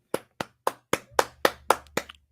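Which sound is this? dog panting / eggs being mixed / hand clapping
hand clapping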